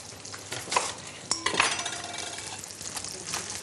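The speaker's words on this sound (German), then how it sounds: "Gucken, dass die Pfanne nicht klebt. So, schön anbraten." Fish frying in a pan with garlic, a steady soft sizzle with a few sharp clinks of utensils against the pan near the start, no talking.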